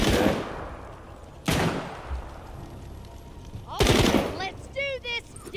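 Gunfire in the zombie video game Saints & Sinners: The Walking Dead, loud broadband bursts at the start, around one and a half seconds and near four seconds, with a person talking quietly between the shots.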